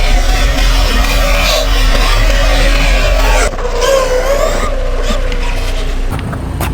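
An Arrma Quake RC car runs at full throttle, a loud continuous motor whine and rushing drive noise that holds steady throughout, close to the recorder.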